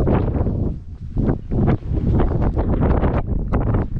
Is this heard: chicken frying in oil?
no